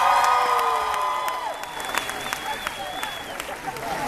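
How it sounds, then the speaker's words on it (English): A convention panel audience applauds and cheers as guests arrive on stage, sustained clapping with whoops and shouts, while a loud sustained tone and a voice sound over the crowd in the first seconds. "Please give a big round of applause for Zach McGowan, Lindsey Morgan, and Eliza"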